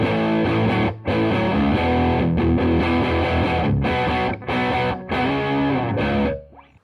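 Electric guitar played through an overdrive pedal with the drive turned past halfway, giving a thick, sustained distorted tone with chunky chords and short gaps between phrases, loud and close with no talking.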